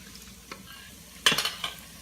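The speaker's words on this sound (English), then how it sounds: "let it sing some song of frying" Oil sizzles and crackles as plantains drop into a hot pan, with a loud burst of frying after a quiet moment and a few clinks nearby.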